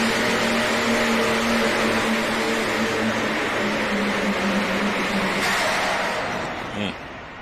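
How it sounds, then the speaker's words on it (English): A loud, over-revving race truck engine at a drag racing event drones at a high, sustained pitch, revving hard and steady before easing off near the end. "Sounded like it was over revving the whole time, didn't it?"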